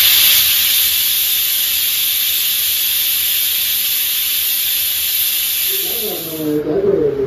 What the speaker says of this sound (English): Our potatoes are getting boiled.